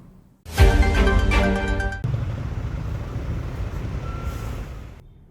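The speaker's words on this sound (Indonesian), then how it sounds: "Truk dengan muatan besar mengular bersama kendaraan pribadi roda 4 lainnya" Heavily loaded trucks crawl in a traffic jam alongside private cars on the Pantura Pati–Rembang road in Central Java, giving a loud, steady engine rumble with a short burst of higher mechanical whine near the start.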